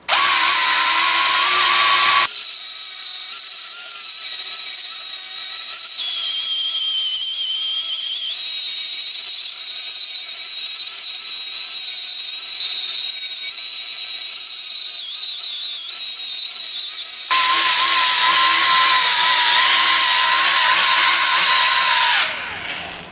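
Milwaukee M12 variable speed polisher/sander scrubbing old gasket material off an intake manifold mating surface, a steady high-pitched whine running continuously for over twenty seconds with a slight pitch shift partway, loud and close.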